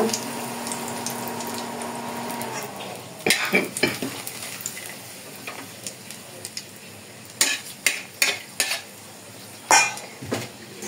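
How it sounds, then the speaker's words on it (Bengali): Dried chilies and bay leaves frying in hot oil, a steady sizzle broken by repeated metallic clanks and scrapes of a spoon against the pan, close and fairly loud, with no talking. "তেলে আপনাকে দিয়ে দেবো শুকনো ঝাল, তেজপাতা"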